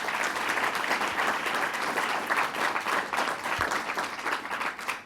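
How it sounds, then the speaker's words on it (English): Audience applause at a climate change event at which a governor speaks, dense and steady clapping from a large crowd lasting the whole stretch without talk. "let's give them a round of applause"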